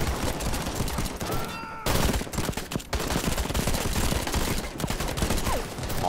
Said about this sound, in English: This way we'll be firing at the enemy from 2 spots, 2 locations. Some pretty heavy fire at that